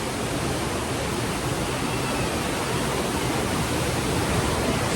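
Water rushing steadily at a stream in Mangaluru, a dense, even broadband roar that stays constant and close throughout with no voices.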